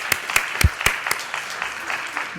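Scattered applause for Representative Bass at the Valuing Black Lives Summit: a handful of distinct, unevenly spaced claps ringing out fairly close, thinning out rather than building into a dense roar.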